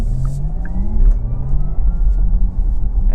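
A 2022 Porsche Taycan 4 Cross Turismo electric car accelerates hard in Sport Plus, its low motor hum rising in pitch over a heavy road rumble inside the cabin, with no talking.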